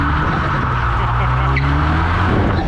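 A Saturn Sky Redline spins a donut, its tires skidding and squealing in a loud, continuous smear over the steady roar of the engine, close and unbroken for the whole stretch.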